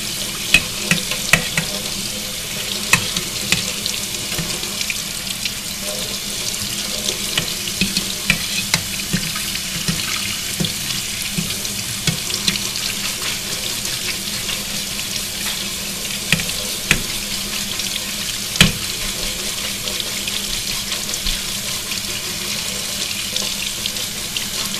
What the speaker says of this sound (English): Now we're going to rinse it out.